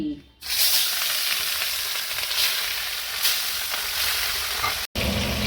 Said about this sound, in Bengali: মাছগুলো এবার আমি দেখো তেলের মধ্যে সাইডা দিতেছি